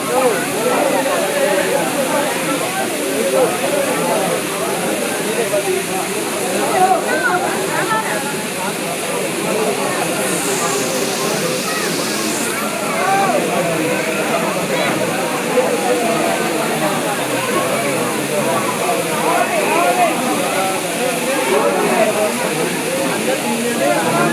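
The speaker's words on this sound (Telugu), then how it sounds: "చూడండి ఇదైతే గుడి పక్కన అయితే ఉంది జలపాతం" A waterfall beside a temple pours with a continuous, broad rushing hiss that stays loud and steady throughout, with a voice speaking over it.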